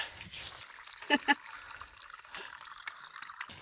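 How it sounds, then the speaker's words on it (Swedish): Water trickles and splashes briefly into a hat at a water station during a hot trail race, faint under background voices and outdoor noise. "Då ska jag fylla min hatt med vatten också."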